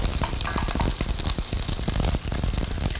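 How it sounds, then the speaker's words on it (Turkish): Whole shallots frying in hot oil, a loud continuous sizzle with crackling pops and spitting, close and steady throughout with no voices. "Arpacık soğanları da önce şöyle bir yağda çevireceğim."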